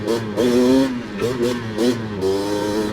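Honda 250R two-stroke engine revving hard with repeated quick blips rising and falling, loud and close, a raspy exhaust pipe with fresh packing crackling throughout.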